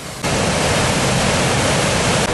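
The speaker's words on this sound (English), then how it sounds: "We're down near the river now, just on the side, and as you can see, it's flowing pretty fast, just above Low Force" Fast-flowing river just above Low Force waterfall in Teesdale, a loud, steady broadband rush of water heard up close without a break.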